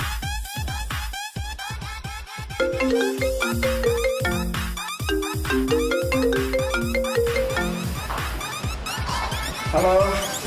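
Phone ringtone of an outgoing call in a Minangkabau drama film, a looping electronic melody playing steadily at moderate level with faint voices underneath.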